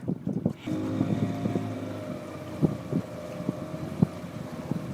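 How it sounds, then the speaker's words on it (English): A motorboat fleeing a charging hippo at full throttle gives a steady roaring engine drone with wind buffeting the microphone and a few thumping hull knocks over the water. "the driver immediately gunned the engine, racing across the water in an attempt to outrun the massive animal"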